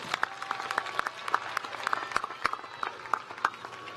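A commencement audience claps for honor scholars, a thin, even patter of applause with distinct individual claps ringing out across the hall.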